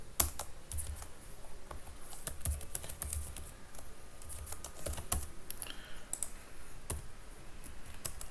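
Rapid, steady typing on a computer keyboard while writing jQuery validation code for an ASP.NET MVC form, with dense close clicks of keys continuing throughout with no talk.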